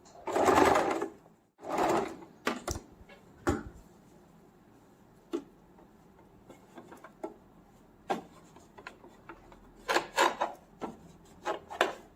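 A sewing machine stitches piping onto the back of a baby's summer frock, running in two short bursts near the start, then scattered clicks and handling taps with light rubbing of fabric through the rest.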